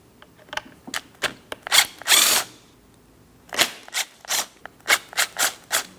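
A power tool backs T30 Torx screws out of a rear power window motor on a 2003-2007 Cadillac CTS: short whirring bursts and ratcheting clicks in uneven spurts, close and fairly loud, no talk.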